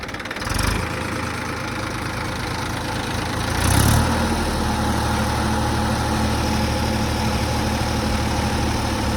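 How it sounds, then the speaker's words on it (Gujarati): Heavy diesel engine of a JCB backhoe loader idling steadily nearby during renovation of an old well, a deep continuous rumble with a brief rev near the middle. "અત્યારે અમારે અહીંયા ભાઈ જીસીબી હાલે છે"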